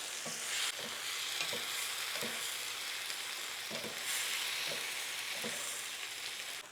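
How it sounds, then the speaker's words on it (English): Tofu with aromatics fries in a pan as part of vegan bánh xèo preparation, a steady bright sizzle running throughout with faint rhythmic scraping of stirring, nearby and without speech. "I'm gonna cook this untouched for 5 minutes because I wanna brown the tofu"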